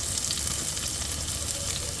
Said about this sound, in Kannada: ಆನಿಯನ್ಸ್ ಎಲ್ಲ ಹಾಕ್ಕೊಂಡು ಒಂದು ಸ್ವಲ್ಪ ಗೋಲ್ಡನ್ ಬ್ರೌನ್ ಬರೋವರೆಗೂ ಫ್ರೈ ಮಾಡ್ಕೊಳ್ಳಿ